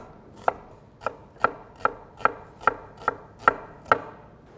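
A knife slicing an onion thin on a cutting board, nine evenly spaced crisp chops close up, each a sharp tap against the board with little else around it.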